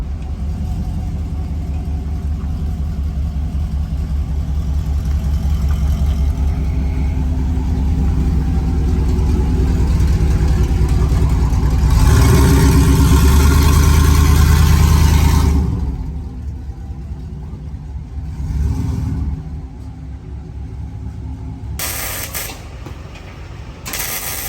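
Loud, continuous exhaust roar from a truck with a 5.3 V8, long tube headers and straight pipe exhaust, rumbling steadily while driving, swelling briefly, then dropping to a lower idle-like drone with a few short bursts.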